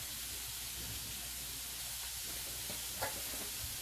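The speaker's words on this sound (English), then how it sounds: "I'm gonna add a little bit of oil into the pot and to saute the seasoning." Seasoning sautéing in oil in a pot for fried rice makes a faint, steady hiss and sizzle with a soft stirring clink near the end, and no one talks.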